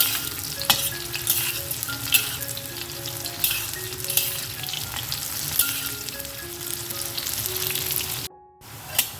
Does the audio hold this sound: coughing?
no